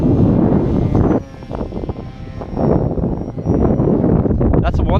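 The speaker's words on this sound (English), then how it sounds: "Let's do a high-speed pass, see if that would work." A propeller-driven FT22 RC model plane makes a high-speed pass in a snowstorm: a thin, steady motor whine sits over heavy, gusting wind buffeting the microphone throughout.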